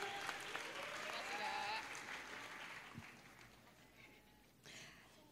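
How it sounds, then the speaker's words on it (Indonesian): A small group at a fellowship night gives a brief, faint round of clapping after a bingo prize, with voices talking over it and the applause thinning out toward the end. "Tepuk tangannya teman-teman."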